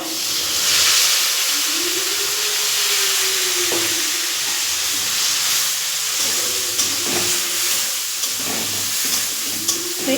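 Spice paste of tomato, ginger and green chilli hits a hot pan for a Janmashtami dish and sizzles loudly and steadily, with brief stirring clatters and a faint hum underneath.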